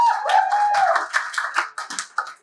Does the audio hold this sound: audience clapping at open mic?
yes